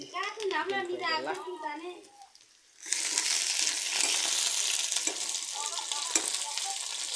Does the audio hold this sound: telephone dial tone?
no